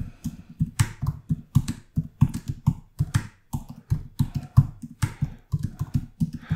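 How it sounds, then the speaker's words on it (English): Rapid, uneven keystrokes on a computer keyboard, typing post content into a social media planner, close and distinct in irregular bursts with no talking. "And I'm an awful typist, as you can see."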